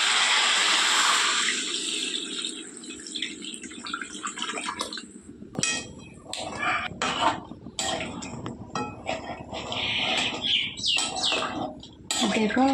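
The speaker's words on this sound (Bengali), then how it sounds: "এবার দিয়ে দেব জল।" Water is poured into a pot of country chicken meat that has been sautéed until browned, giving a splashing, liquid gush with some clatter of the pan, and a voice speaks partly over it.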